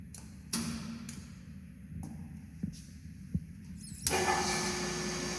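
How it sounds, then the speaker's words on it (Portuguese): A water pump starting up in a closed hydraulic head-loss test rig, turning on with a sharp rise into a steady throbbing hum, with a few clunks along the way and a louder, broader surge near the end. "A partir de eu ligar a bomba, começa uma barulhada"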